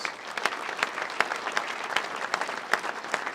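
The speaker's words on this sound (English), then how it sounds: "Give them a round of applause" Applause for countywide elected officials at a State of the County address, a moderate crowd clapping with distinct individual claps audible, steady and fairly close.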